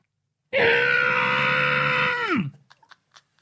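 A man lets out a single loud, sustained scream lasting about two seconds, close to the listener, which cuts off abruptly and is followed by a few faint scattered clicks and breaths.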